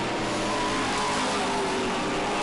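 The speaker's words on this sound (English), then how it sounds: "That white 23 car is working his way up." A white number 23 race car roars loud and steady during a short stretch of a New England oval race, with a broad engine roar and no talk over it.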